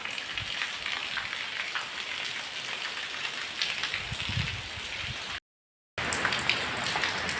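Steady, dense rainfall hisses loudly and continuously, broken by one short silent gap before the downpour resumes.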